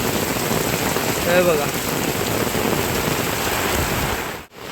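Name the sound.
heavy monsoon rain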